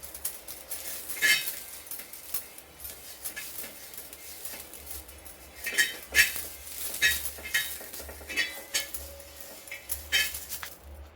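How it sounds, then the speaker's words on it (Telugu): Metal spoon holding a cut onion scraped and rubbed across a hot dosa griddle, giving repeated scratchy clinking strokes in uneven bursts, close and moderately loud, with no talking. "ఆనియన్కి ఒక స్పూన్ పెట్టుకొని ఆనియన్ ఇలా రుద్దుకోవాలి పెంకకి."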